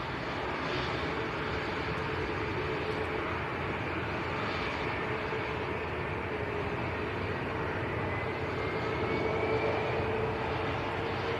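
Airbus A321neo at Manchester Airport, a broad steady jet roar that holds for the whole stretch at moderate distance, with a faint rising engine whine toward the end.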